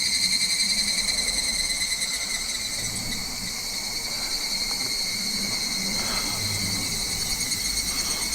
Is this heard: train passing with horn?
no